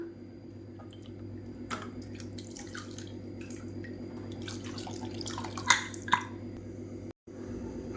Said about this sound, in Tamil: மூடியிலெல்லாம் இந்த மாதிரிலாம் ஒட்டிகிட்டு இருக்கும் அதில் கொஞ்சமாக தண்ணி விட்டு அலசி நம்ம அப்படியே அதில் சேர்த்துக்கலாம்